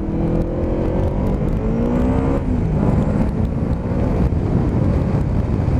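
Yamaha Vmax motorcycle accelerating under power, a loud continuous engine roar with rising and falling rev tones shifting through gears, heavy wind noise underneath.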